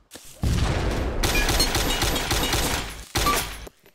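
Weapon fire in the ArmA 2 Stargate mod, loud continuous bursts of shots in two long strings separated by a brief pause, dense and close.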